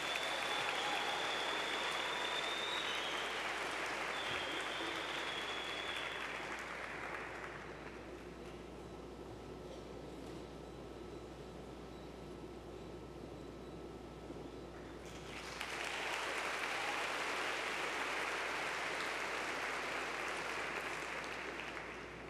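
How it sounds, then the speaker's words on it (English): Sustained audience applause fills a university closing plenary hall, loud and dense, easing into a quieter stretch of scattered clapping midway before swelling back to full strength, with no speech over it. "So please give them another round of applause."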